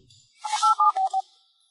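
A phone keypad sends a quick run of about four or five electronic DTMF dialing tones in a tight burst, clear and close with near silence around them.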